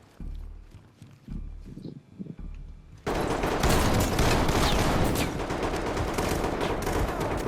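Gunfire in the tactical shooter game Ready or Not, a dense, sustained burst of rapid shots that starts abruptly and keeps going at high volume after a quieter stretch of footsteps and movement.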